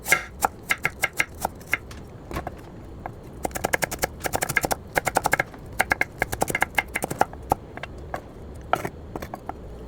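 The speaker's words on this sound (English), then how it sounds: "You will need to mince it. Slice it at first." A knife slices a small piece of ginger on a cutting board in a home kitchen, sharp crisp taps coming in quick irregular bursts, close and clear with no talking.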